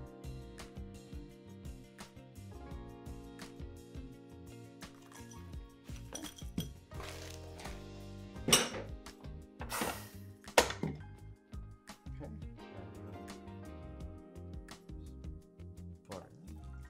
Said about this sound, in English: we are gonna get our chilled glass and we're gonna fill it with crushed ice